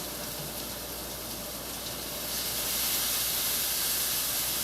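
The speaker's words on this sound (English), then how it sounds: "This is me adding the water to the flat top, using the steam to essentially coat the chicken" Water hisses and steams on a hot flat-top griddle while chicken cooks, a loud continuous sizzling spray close by that grows stronger partway through.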